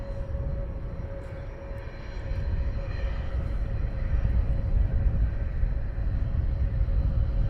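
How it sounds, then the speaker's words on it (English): A Beechcraft 400 business jet passes at Luton Airport with a steady, broad engine roar and a faint high whine that swells louder through the second half. "This is a Beechcraft 400."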